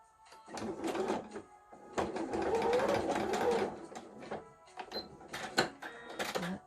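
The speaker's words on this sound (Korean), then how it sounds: "원단 끝에서 4, 5mm 들어온 대로 쭉 상침해서 시접이 안으로 쑥 들어가게끔 고정 바느질 할게요" A sewing machine runs in short bursts and one longer run of rapid, even stitching as it topstitches fabric for a mask with a replaceable filter, with pauses and clicks between runs, close and clear.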